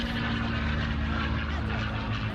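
Vintage World War II propeller aircraft flying laps at an air show, a steady droning engine roar that holds at constant loudness throughout, heard from a distance with a low harmonic hum.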